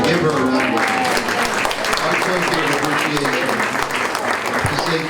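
Lunch guests applaud at a chamber of commerce luncheon during a gift presentation, steady clapping throughout with voices talking over it.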